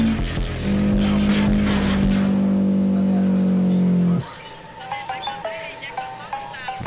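A Toyota AE86 in the BeamNG driving game has a damaged, smoking engine that is knocking. A loud, steady engine drone cuts off abruptly and is followed by a series of sharp, rhythmic knocks.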